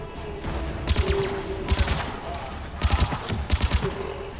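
Electric-round gunfire in the shooter game Mass Effect 3 rattles out in short rapid bursts of several shots each, repeated four times over a continuous background hum.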